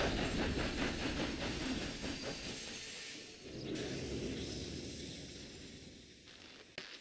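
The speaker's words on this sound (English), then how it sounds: "As the train approached, I was expecting it to just plow through" A train in Red Dead Redemption 2 rolls along with a heavy, steady rumble and hiss, a faint rhythmic clatter early on, then slowly fades a little, with no voices over it.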